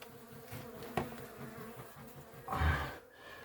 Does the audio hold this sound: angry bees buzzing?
yes